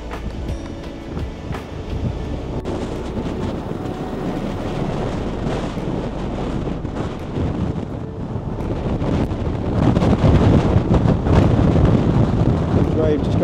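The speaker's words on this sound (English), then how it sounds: "These waves just come over the back, over the gap, above the blowhole." Stormy beach with waves surging over the back of the beach through a gap above a blowhole, a continuous loud roar of surf and heavy wind buffeting the microphone, swelling louder toward the end.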